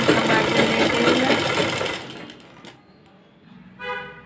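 A sewing machine runs close and loud, stitching a fitting seam along the side of a garment with a 1.5-inch margin, its steady whirring stitch slowing and stopping, followed by faint small clicks.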